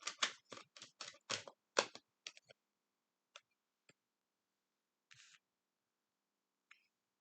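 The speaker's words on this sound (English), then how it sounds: "Beautiful cards to shuffle." A Witch's Tarot deck is shuffled by hand close to the microphone: a quick run of crisp, papery riffles and snaps that thins out into a few scattered soft clicks and card taps with quiet gaps between them.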